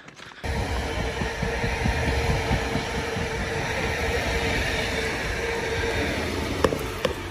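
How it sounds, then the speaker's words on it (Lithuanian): A passenger train rumbles steadily at a distance with a continuous rolling roar and faint rail clatter, a couple of small clicks near the end. "Paskutinis keleivinis traukinys."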